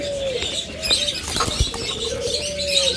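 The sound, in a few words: caged breeding pair of ringneck parakeets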